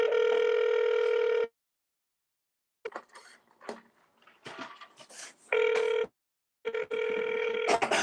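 Telephone line tones sound while a call is placed to a hotel's automated line: loud steady tones cut on and off in blocks, separated by silence and by softer clicks and faint, crackly line noise.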